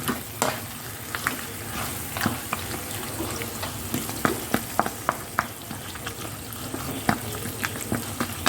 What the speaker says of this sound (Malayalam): എന്നിട്ട് നല്ലോണം മസാല മിക്സ് ചെയ്യുക